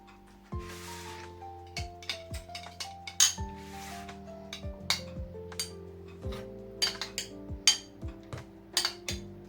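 Hot garlic buns (pampushki) set one after another into a bowl, with a series of light clinks and soft knocks against the dish at an irregular pace, close and fairly quiet, with no talk.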